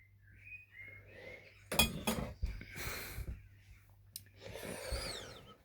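Old Pyrex glass boiling flasks, including small three-neck and one-neck lab flasks, clink and knock sharply while being handled, a few close bright glassy strikes scattered among quieter rustling, with no talk.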